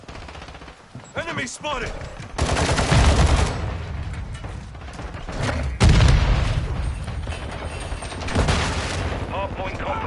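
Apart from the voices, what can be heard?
gunfire in video game Modern Warfare 2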